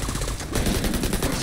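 Rapid gunfire from Tom Clancy's The Division 2, played co-op on PC at a waterfront level, rattles in a dense, loud, continuous burst lasting about a second and a half.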